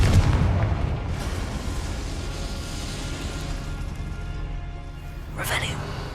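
A Confringo fire spell blast in the Hogwarts Legacy video game opens with a heavy boom, then a long rumbling roar carries on with a sharp hiss near the end, and a voice talks over it.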